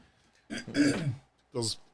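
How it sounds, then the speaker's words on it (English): A person clears their throat twice, a longer rough rasp followed by a short second one, close and quiet. "if I'm clearing my throat a little bit"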